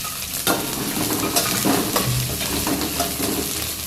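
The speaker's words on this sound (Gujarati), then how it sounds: "2 ડોકલી તેલ છે, લસણ નાખી દીધું અને મરચા." Garlic and chillies fry in a little hot oil for homemade Manchurian, giving a continuous close crackling sizzle with stirring and light utensil scrapes throughout.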